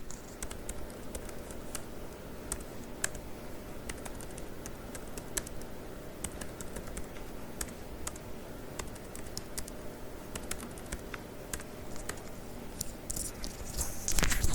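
Quick, irregular clicking of a computer keyboard runs steadily throughout as commands are typed into a command prompt for a MySQL database, close and dry, with a louder cluster of keystrokes at the end.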